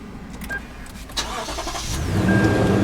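A 2018 Lexus GX460's 4.6-liter V8 engine cranks and catches, then settles into a steady, deepening idle rumble that grows slightly louder toward the end.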